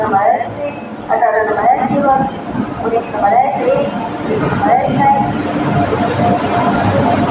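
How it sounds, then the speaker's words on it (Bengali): An Indian Railways train arriving behind a WAP-7 electric locomotive at a junction station platform, its rumble running steadily beneath nearby people talking. "আর তোমার ওয়াক্স সেভেন ইঞ্জিনের সঙ্গে এসে পড়েছে ট্রেন"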